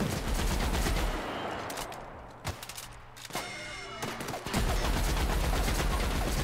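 Sustained gunfire rattles through a fight in The Outer Worlds, dense and loud at first, thinning to a few separate shots in the middle, then surging back to heavy continuous fire.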